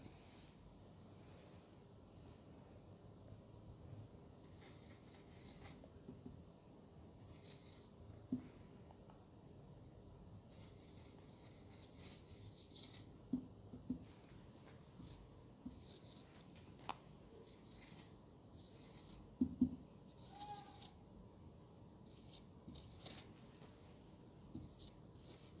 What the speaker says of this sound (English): I'm going to write first in Urdu script.